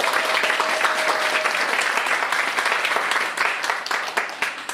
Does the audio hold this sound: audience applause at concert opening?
yes